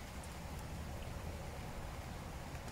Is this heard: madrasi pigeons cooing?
no